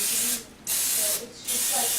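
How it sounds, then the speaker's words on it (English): Two bursts of cooking spray hiss onto a muffin pan, each a loud, close, steady aerosol spray separated by a short pause. "I'm going to spray my muffin pan with some cooking spray."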